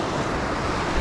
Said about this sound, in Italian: Sono delle schiumate fantastiche